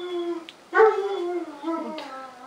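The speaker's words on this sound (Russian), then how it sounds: "так собака начала подвывать, как обычно" A dog at a rural home howls and whimpers in drawn-out, wavering tones, close and fairly loud, with a few rising yips breaking through.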